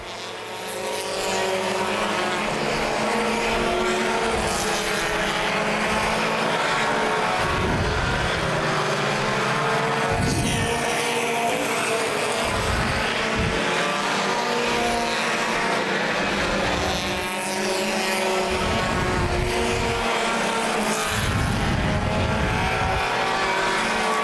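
Mini stock race cars roar around Plymouth Speedway in a 2011 summer championship race, a loud continuous engine drone with repeated swells as cars pass close by, no talk over it.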